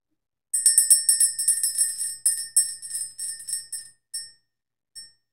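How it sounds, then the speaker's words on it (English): A small bell rung during a spiritual energy-clearing ritual gives a rapid series of bright metallic strikes that slow and thin out, ending with two isolated, fading rings, all alone without speech. "Let's ring the bell"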